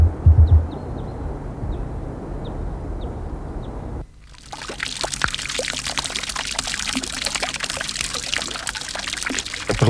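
Water pours into an outdoor water trough on a terraced hillside, a constant close rushing splash that shifts to a lighter, trickling flow partway through, with faint bird chirps early on and no talking.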